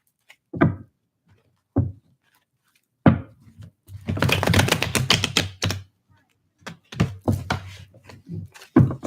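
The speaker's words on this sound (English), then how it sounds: "Let's do one more shuffle." Tarot cards are shuffled in hand, making bursts of rapid riffling and crisp taps, with a longer flurry in the middle and scattered knocks of the deck around it, close and clear.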